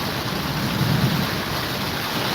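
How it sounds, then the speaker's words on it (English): Heavy rain pours down steadily and loudly near an overpass, with a low rumble of thunder rolling beneath the dense hiss of the downpour; no talking. "Better talk really loud, Lorena, because the rain is coming down."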